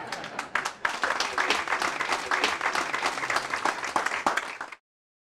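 Loud close applause from an audience at an educational workshop presentation, rapid dense clapping that builds quickly and continues evenly before cutting off abruptly.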